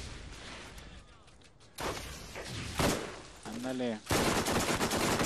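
Gunfire in the co-op shooter video game Borderlands, with sharp bursts and rapid shots in several loud clusters and a tonal effect near the end, under and between players' talk.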